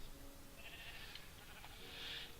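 Sheep in Minecraft bleat twice, one short call followed by a longer, brighter bleat, fairly faint against a steady low background hum.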